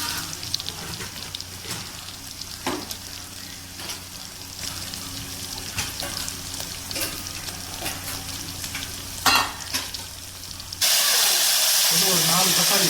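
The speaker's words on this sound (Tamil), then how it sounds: "வெங்காயம் நல்லா வதங்கட்டும்." Onions sauté in a pan for beef masala, a soft continuous sizzle with occasional stirring clicks and scrapes, then a sudden louder, hissing burst of frying near the end.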